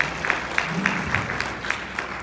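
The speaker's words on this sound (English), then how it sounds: "So I'd like you to give him a big round of applause for sticking his neck out there." A small audience gives a presenter a round of applause after his dissertation proposal briefing, a moderate, somewhat distant patter of clapping with sharper individual claps standing out.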